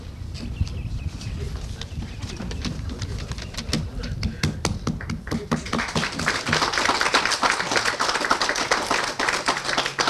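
Scattered outdoor clapping for Vietnam veterans at a ceremony, starting as sparse individual claps over wind rumble and building into denser, steadier applause from a crowd.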